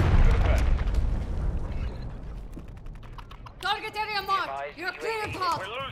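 Close air support bomb strike in Call of Duty: a deep, rumbling explosion booms and fades over the first seconds, followed by someone talking excitedly over faint keyboard clicks.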